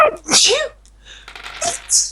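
Two sharp, close sneezes burst out in quick succession at a tabletop role-playing game session, each loud and brief with a short pause between them.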